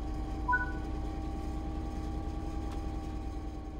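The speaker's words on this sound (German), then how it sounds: "Mein Gott, hat die einen Motorsound. So richtig Bass, ne? So richtig dröhnend." A train locomotive engine idles in the Train Sim World 3 video game with a low, bassy, even drone. It holds steady at moderate loudness, with faint tonal hums and a brief chime near the start.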